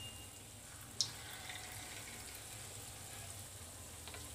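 Gulgule batter frying in hot oil, a steady soft sizzle and bubbling throughout at low level, with one brief small clink near the start.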